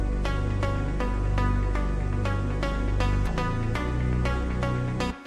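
Muffin synth preset from the Hype plugin in an Afro House track, playing a steady rhythmic pattern of bright plucked chord stabs over a sustained low bass line, loud and up front with no voices.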